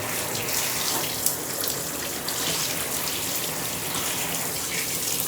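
Steady water gushes from a tap or sprayer as a dog is rinsed of soap during a bath, a continuous close splashing hiss with no pauses.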